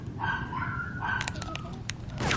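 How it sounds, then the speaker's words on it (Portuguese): Small dogs yap and bark a few times in the background, faint and distant beneath a live online game session, with a few sharp clicks and a burst of noise toward the end. "Os cachorrinhos no fundo"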